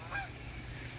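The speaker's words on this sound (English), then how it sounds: "geese." A couple of short, faint honks from geese somewhere in a garden, heard over a low background rumble.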